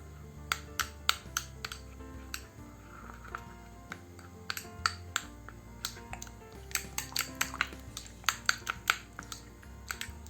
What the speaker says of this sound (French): Nous allons tout mélanger.